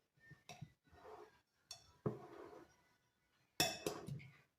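Salad with smoked meat and croutons being stirred in a bowl, giving a few separate clinking and scraping bursts of utensil against the dish, moderately close with short pauses between.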